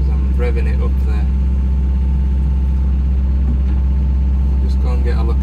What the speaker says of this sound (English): fan bearing noise as I'm revving it up there.